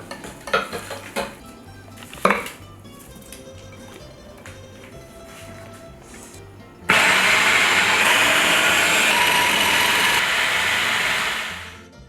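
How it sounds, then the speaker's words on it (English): Frozen Sicilian granita crushed in a food processor: a few clinks of dishes and utensils, then the motor kicks in with a loud, steady grinding whir for several seconds before it cuts off. "This goes into the food processor."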